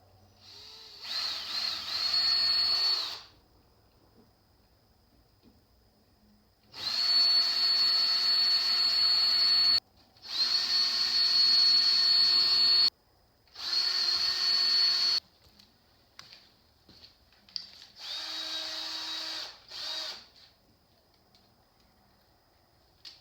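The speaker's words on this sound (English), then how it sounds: "we're going to pre-drill these holes." A power drill pre-drills holes in a three-inch-wide board cut from a hollow wood door, whining in several separate bursts of a few seconds each with short pauses between, close and loud.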